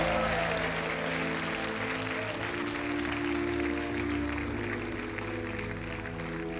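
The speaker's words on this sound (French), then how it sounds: "On vous laisse repartir sous les applaudissements." A TV game show studio audience on Money Drop gives sustained applause, a steady, broad roar of clapping with music playing beneath it throughout.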